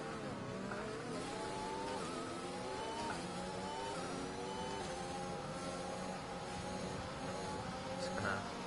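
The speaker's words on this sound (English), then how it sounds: "just gonna pump the throttle." A race car engine in a racing game drones steadily with rising and falling revs, loud and continuous throughout, with no speech over it.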